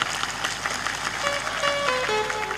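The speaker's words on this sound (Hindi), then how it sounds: "ताली बजाइए दाल की सेवा।" Crowd applause fills the air at a Hindu devotional gathering, steady and moderately loud throughout, with a sustained tonal drone rising and stepping beneath the clapping.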